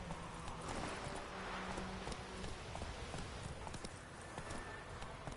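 Roach the horse gallops in The Witcher 3, a steady rapid clip-clop of hooves close by, dense and continuous over a faint background with no clear talk.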